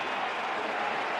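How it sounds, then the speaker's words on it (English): Tennis crowd giving Rafael Nadal a standing ovation during his 2009 Madrid semifinal against Novak Djokovic: a brief, even wash of applause from a large stadium audience. "A standing ovation from the crowd here"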